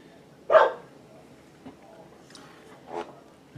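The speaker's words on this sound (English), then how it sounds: "there's a dog barking" A dog barks once loudly and close, then gives a couple of softer, shorter barks a few seconds later, with quiet room noise in between.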